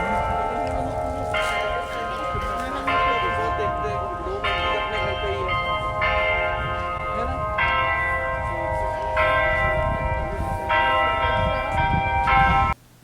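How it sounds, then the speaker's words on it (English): Loud, out-of-tune church bells ringing in New York City, heard as repeated overlapping peals that swell in steady waves over a constant background rumble, with no voice. "Basically, there's these really loud bells. They were out of tune."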